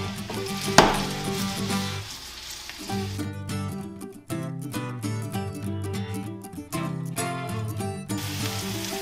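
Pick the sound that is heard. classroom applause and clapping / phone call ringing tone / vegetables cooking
vegetables cooking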